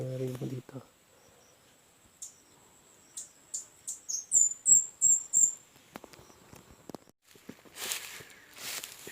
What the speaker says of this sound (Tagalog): matunog lang ng mga ibon na rin mo dito